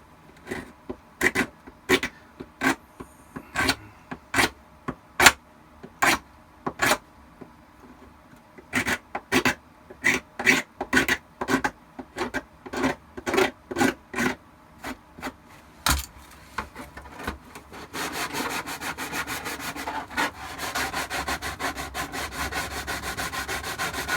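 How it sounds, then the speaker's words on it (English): Sandpaper is rubbed by hand over a rough part of a Shadow Trooper armor build in steady, rhythmic back-and-forth strokes, loud and close, before it turns into a continuous dense rasping scrub. "with the sandpaper that'll take care of that in 2 seconds"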